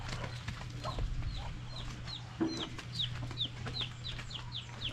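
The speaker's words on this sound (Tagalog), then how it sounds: "ito yung barako natin" A rooster clucks on a rural farm in a series of short calls at close range, over a steady low hum and some background chirping.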